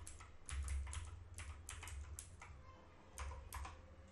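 Computer keyboard keys typed in several quick bursts of clicks, close and fairly quiet, with brief pauses between bursts and no voices.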